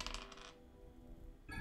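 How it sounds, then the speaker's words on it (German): Dice rattle and clatter in Gordian Quest, a short burst of clicking rolls up front, then a quiet tail and a fresh chime-like tone at the end, with no talk. "Okay, würfeln."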